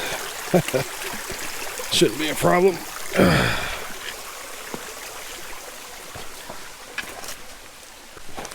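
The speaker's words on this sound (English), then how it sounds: "it's kind of neat, little creek crossing that I did not know was there" Water from a small creek trickles and splashes during a forest creek crossing, with close footsteps, sloshing and heavy breaths, while a person briefly speaks.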